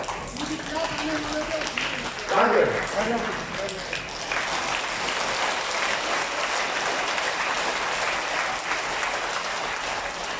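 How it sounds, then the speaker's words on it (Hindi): Sustained audience clapping at a live religious gathering, loud and continuous for the whole stretch, with someone talking over the start before the applause carries on alone. "ऐसे ताली नहीं बजाइए जैसे आप लोग ताली बजा रहे हैं।"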